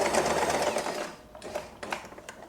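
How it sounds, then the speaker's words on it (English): A sewing machine runs a straight seam along fabric for a ruffle headband, a close continuous whir for about a second, then a few short irregular mechanical clicks. "after we sew a straight line all along the fabric, you can sew a little here"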